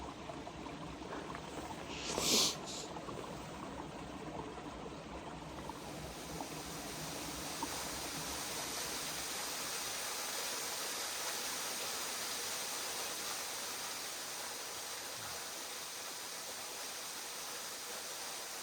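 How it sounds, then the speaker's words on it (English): Water in a small, secluded rainforest pool in Sutherland, Scotland, gives a steady, soft broadband rush throughout, with a brief louder splash early on and no voices. "What a dreamy little pool, rainforest pool."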